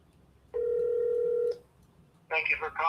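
A single steady ringback tone sounds for about a second on an outgoing sales call to a home seller, followed by a short pause before a voice begins talking over the line.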